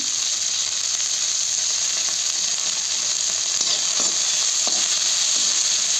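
Chicken frying in a pan for a dry fry with ginger-garlic paste, a loud, constant bright sizzle with occasional scraping clicks from stirring, close and with no talk.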